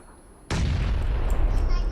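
Gunfire erupts in a PUBG-style battle royale video game, a sudden loud burst of shots followed by sustained, dense firing and crackle.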